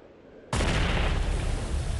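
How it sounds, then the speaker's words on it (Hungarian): Dynamite dropped from a helicopter onto a mountaintop to set off a dry powder-snow avalanche: a sudden loud blast after a quiet start, swelling at once into a sustained, heavy roaring rumble that does not fade. "Ez az a pillanat, amikor ledobják a dinamitot a helikopterről,"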